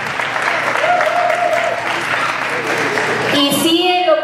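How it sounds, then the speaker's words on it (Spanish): Continuous crowd applause at a Zumba fitness event, loud and dense throughout, with a voice shouting over the clapping near the end. "si me acompañan con otro aplauso, por favor"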